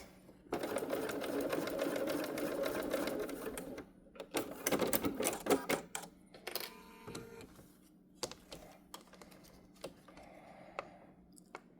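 Close-up sewing machine stitching across fabric for a zipper pouch at a long stitch length, a steady fast run for several seconds followed by short bursts and clicks.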